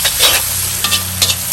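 Vegetables stir-fry in a cast-iron Lodge wok over a Weber charcoal grill, giving a loud close sizzle that swells briefly with each toss and stir across a second and a half.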